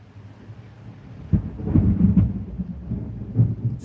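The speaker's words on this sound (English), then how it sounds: "It's not comfortable hearing thunder." Low, rolling thunder rumbles continuously and swells louder midway, a deep sustained roar with faint rain-like hiss and no voices.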